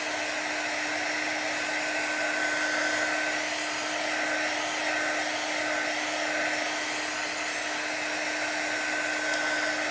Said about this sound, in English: Let's get this dried up.